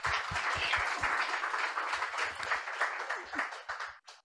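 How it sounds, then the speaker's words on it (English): A conference audience at a blue economy event claps in a short burst of applause that fades out over a few seconds. "First of all, maybe a round of applause."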